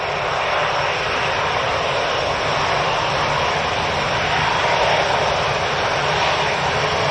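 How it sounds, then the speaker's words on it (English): A Logan Air airliner roars at Manchester Airport as it touches down, a loud, steady broadband engine rush that holds constant throughout with no speech. "Logan Air's just touched down"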